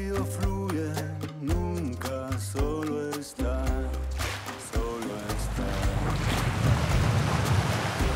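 Strong wind on a sailboat: a rushing roar of wind and water noise builds after a stretch of melodic music and grows louder toward the end.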